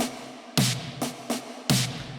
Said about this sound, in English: it's a ghost snare, but I'm doing my ghost snare with a lot of reverb